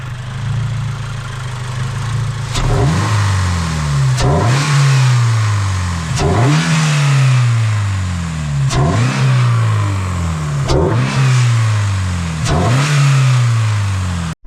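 Sharp repeated revs from a Toyota GR86 fitted with an upgraded intake, about six quick blips each rising then sagging back toward idle, loud and close with no talking.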